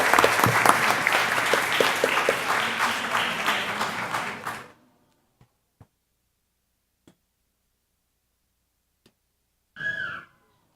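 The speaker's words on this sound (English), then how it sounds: "Give them a round of applause." Applause from an audience at a school board meeting during an awards recognition, loud steady clapping that cuts off sharply, followed by near silence with a few small ticks and a brief burst of sound at the end.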